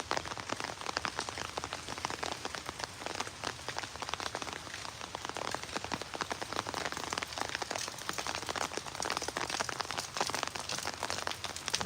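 Light rain patters steadily on a nearby surface, a fine, constant crackle of drops with no voices.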